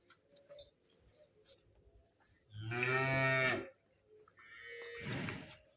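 A water buffalo lets out a loud, drawn-out low bellow, followed by a second shorter call after a pause, over quiet background.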